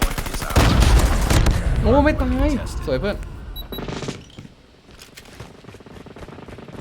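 Gunfire from an FG42 rifle in the mobile shooter Call of Duty Mobile: dense bursts of rapid shots with game effects, loud at first and thinning later, under excited talk from players.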